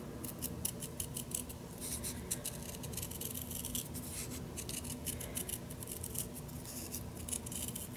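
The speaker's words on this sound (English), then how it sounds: "now I'm going to just cut around my line" Scissors snip steadily around glued old book pages, a quick run of close, crisp cuts repeating throughout with faint paper rustle and no talking.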